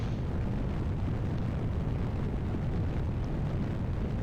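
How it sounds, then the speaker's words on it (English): Rocket booster stages blowing apart during launch in Kerbal Space Program, a dense continuous roar of rumbling explosions, loud and steady with no talk over it. "Staging first stage, and those explosions were completely harmless."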